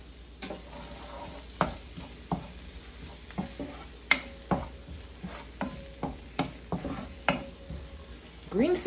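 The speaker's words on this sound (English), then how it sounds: "So I'm gonna saute this for 2 minutes" Vegetables with green seasoning sauté in a pot for a Caribbean pumpkin and smoked meat soup, a quiet sizzle under roughly a dozen sharp spoon-stirring knocks against the pot, spaced unevenly and heard close up.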